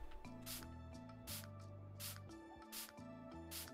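Spray painting in the video game House Flipper 2, five short hissing bursts at an even pace over steady background music.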